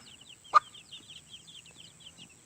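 Backyard chickens cluck softly in short bursts while a rooster is among them, with one sharper, louder squawk near the start and a steady background hum.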